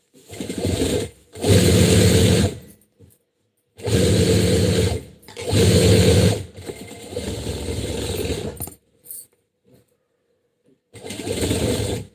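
An electric sewing machine stitches a torn shirt in loud, close bursts of rapid mechanical whirring, several runs of one to two seconds separated by short pauses.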